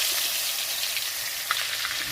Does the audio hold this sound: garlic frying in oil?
yes